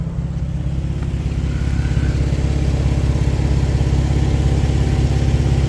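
A lifted 2013 Jeep Wrangler Sport with an aftermarket exhaust runs at idle close by, a steady deep rumbling burble that holds even throughout with no voices.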